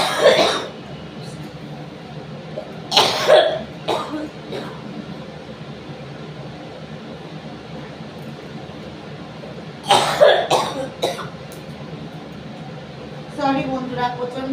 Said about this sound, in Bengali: সরি বন্ধুরা, প্রচন্ড কাশি হচ্ছে